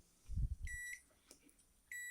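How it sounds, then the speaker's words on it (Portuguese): A multimeter in continuity mode beeps with a steady high electronic tone while its probes test a transistor in a TV power supply, sounding two separate beeps near the end after some low handling thumps. "se vocês não verem o multímetro, vocês vão ouvir o multímetro bipar"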